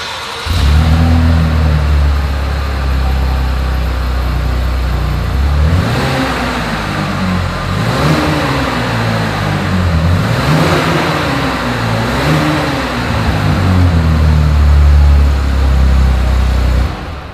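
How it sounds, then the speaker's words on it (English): A 2020 Chevrolet Blazer's exhaust heard up close as the engine is revved repeatedly, rising and falling in several throaty pulls over a steady idle, with no talk. "As always, here is that exhaust clip."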